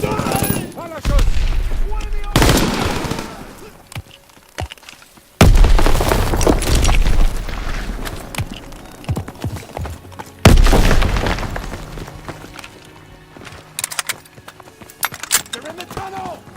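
Grenade explosions and gunfire in Call of Duty WW2 team deathmatch on PC: heavy booming blasts land around the start and again near five and ten seconds, amid rattling bursts of shots, with shouted voices throughout.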